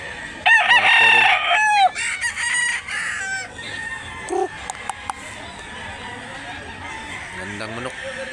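A rooster at a chicken-selling spot in Mantalungon, Barili, Cebu crows loudly and up close, followed by scattered clucks and other fowl calls, with someone speaking briefly amid the birds.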